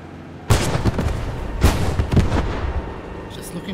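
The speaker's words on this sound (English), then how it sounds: "Mortar's coming down on their position." Mortar rounds in the World War II game Squad 44, during an armoured French column assault on the Maginot Line in 1940, land as two loud, close booming bursts about a second apart, each followed by rumbling debris, with faint background chatter.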